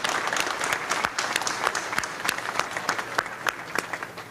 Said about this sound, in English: give them a round of applause to the residents